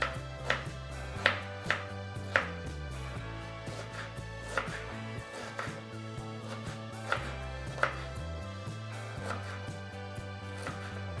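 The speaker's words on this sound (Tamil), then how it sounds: "நம்ம வெங்காயத்தை கட் பண்ணிட்டோம்" An onion chopped with a knife on a board, sounding as a series of crisp, close taps at an irregular pace, about a dozen strikes over soft background music and no speech.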